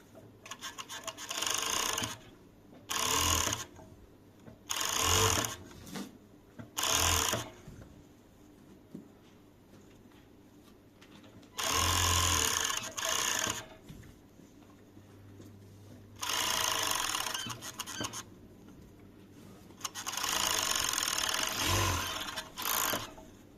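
Sewing machine stitching fabric for a ball-shaped pillow, running in several loud whirring bursts of a second or two, separated by quiet pauses, close up with no talking.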